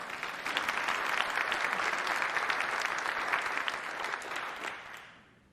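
Audience at a State of the City address applauding steadily, dense sustained clapping that holds for about five seconds and then fades out, with no talking over it.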